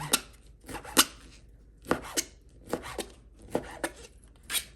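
A knife chops chicken into small pieces on a cutting board in irregular sharp thuds, about a dozen strikes, close and clear with no talking.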